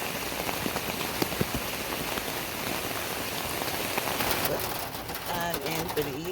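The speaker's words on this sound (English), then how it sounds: "as you can hear, the rain is continuing" Steady rain patters on a surface throughout at a lakeside campsite, a dense hiss of drops with a few louder splashes, and faint cooing from a bird nearby.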